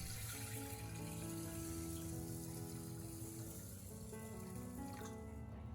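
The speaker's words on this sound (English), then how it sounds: "place the soaked black beans into a pot and add enough water to fully cover them" Water pours steadily from a tap into a pot of soaked black beans, a soft continuous rushing stream with a gently rising pitch as the pot fills.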